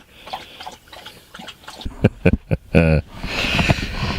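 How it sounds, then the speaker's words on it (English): Wet lapping and slurping bursts of a large dog drinking water, close by after some quieter background noise, ending with louder rustling. "Are you finished drinking there, Sam, or should I take the water away?"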